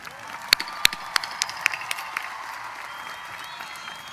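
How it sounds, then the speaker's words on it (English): Scattered claps from an audience honoring graduates at the Harlingen High School 2025 commencement, a few sharp hand claps over roughly two seconds that thin out into a quiet room hum. "Ladies and gentlemen, let's give our graduates a huge round of applause."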